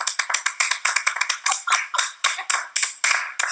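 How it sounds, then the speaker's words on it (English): A round of applause for a winner on a studio television show: a small group clapping steadily and crisply, close and fairly loud, with no voices over it. "Congratulations, a round of applause."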